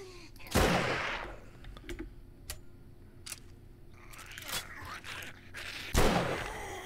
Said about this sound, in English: Try out our new gun.